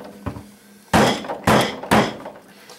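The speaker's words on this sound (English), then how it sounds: "put the screwdriver under the block and strike it with a hammer" Three sharp metallic-wooden strikes ring out in quick succession, each a loud hammer blow on a screwdriver wedged under a wooden block, with a short ringing decay, preceded by a faint tap.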